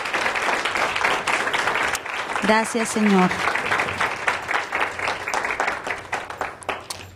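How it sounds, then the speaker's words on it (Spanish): A church congregation applauds, with dense clapping running throughout under continuous talk and a short sung or chanted phrase near the middle. "vamos a dar un aplauso al Señor por nuestras finanzas"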